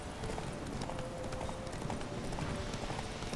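Horse hooves drum in a fast gallop in the video game The Witcher 3, a dense continuous pounding with no talk.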